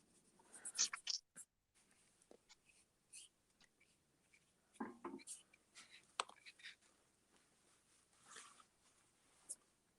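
A pen draws in ink on paper, giving soft, intermittent scratching strokes with short pauses between them, close and quiet against a near-silent background.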